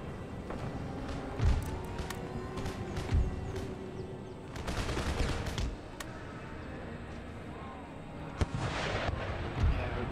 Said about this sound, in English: they're getting pounded by the mortars